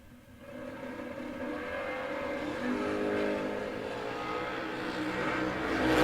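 A drag race with a dragster and a Camaro launching side by side, a continuous heavy engine roar that builds and swells in intensity over several seconds, loud and dense with no voices over it.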